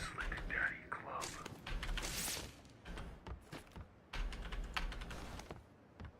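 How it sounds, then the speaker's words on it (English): A computer keyboard is hammered in rapid, irregular bursts of clacking keystrokes during a PUBG session, close and fairly quiet, with someone talking at times over the typing. "I'm pounding the keys"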